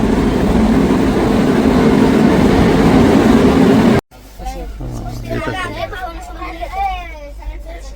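The Dadar Express arrives at Patiala railway station: a loud, steady train rumble and roar fills the first half, then cuts off abruptly, leaving nearby people talking over a quieter hum.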